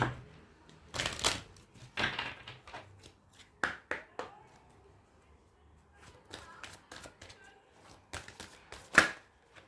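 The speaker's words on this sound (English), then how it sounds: "I will pick up one oracle card from Angel Answers." Oracle cards from an Angel Answers deck handled and shuffled in irregular dry riffling and flicking bursts, close and crisp, with pauses between, while a person speaks.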